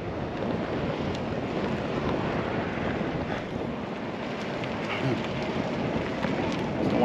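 Steady wind buffets the microphone with a constant rushing roar, loud and close, continuing without a break, while riding an ENGWE P20 carbon belt-drive folding e-bike.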